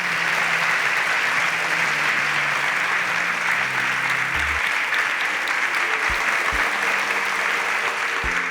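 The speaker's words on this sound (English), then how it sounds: "Round of applause for Sashi." Studio audience applauds steadily and loudly for an eliminated contestant on a Nigerian television competition show, a dense continuous wash of clapping with no break.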